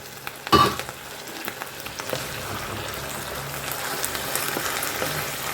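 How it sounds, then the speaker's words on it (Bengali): A splash of water hits a pan of frying chicken coated in cornflour mix, bursting into a loud sizzle that settles into a steady, crackling hiss with scattered pops, close up and with no voices. "গ্রেভির জন্য একটুখানি জল দিচ্ছি, খুব বেশি নয় কিন্তু"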